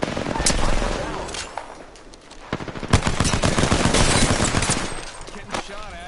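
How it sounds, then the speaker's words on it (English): Gunfire in the battle royale game Apex Legends, rapid automatic bursts and sharp shots rattling through most of the stretch, with voices talking over the firefight. "Getting shot at."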